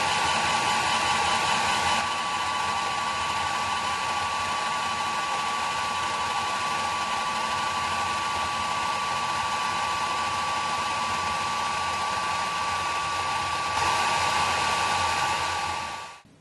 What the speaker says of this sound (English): press the play button and the machine will start engraving